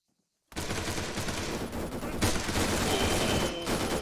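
Sustained machine gun fire in Arma 3 combat, a dense unbroken burst starting abruptly after a brief silence and rattling on loud and close for several seconds without pause.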